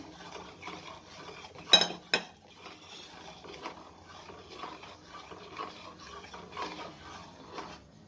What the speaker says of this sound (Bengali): আমি এটাও ধুয়ে জলটা দিয়ে দিলাম যেটা বানিয়েছিলাম। এটাকেও ভালো করে গুলে দেবো।